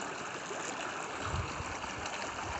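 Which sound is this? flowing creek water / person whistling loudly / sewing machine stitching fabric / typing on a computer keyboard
flowing creek water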